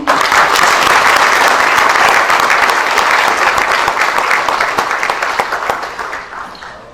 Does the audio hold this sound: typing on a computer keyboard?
no